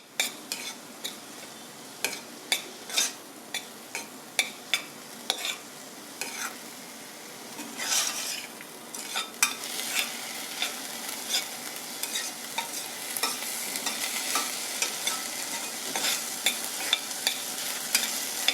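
Chopped tomatoes and onions sauté in a pan for a lentil dal, a steady close sizzle broken by repeated sharp scraping and stirring strokes of a utensil against the pan, with no talking.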